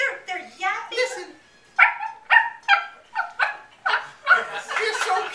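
A voice imitating a litter of puppies, with a string of short high yaps and yips in quick bursts, loud and close, mixed with whimpering.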